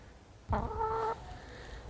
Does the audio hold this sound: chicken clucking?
yes